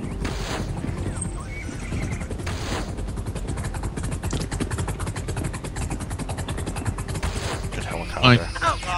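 A helicopter in a video game gives off a steady engine drone with a rhythmic rotor chop that runs throughout, mixed with other game noise, while people talk over it.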